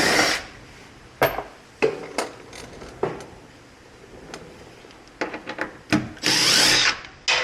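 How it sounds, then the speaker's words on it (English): A power drill driving out screws on a 2025 Toyota Tacoma, with short separate bursts of whirring spaced across the clip and then a longer run near the end, close and fairly loud. "Now I can just go back and remove the other screws"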